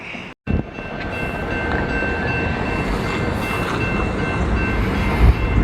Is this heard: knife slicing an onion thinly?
no